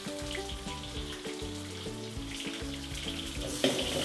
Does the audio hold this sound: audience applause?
no